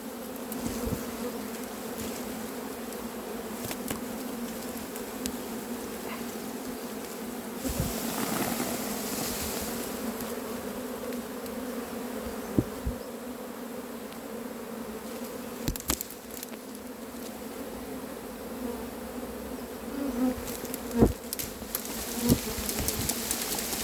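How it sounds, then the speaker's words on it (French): A steady, droning hum of a swarm of bees buzzing together, clustered above a cardboard box, continues throughout, with occasional soft knocks and rustles over the swarm. "On voit qu'il y a des abeilles qui pendouillent juste au-dessus du carton."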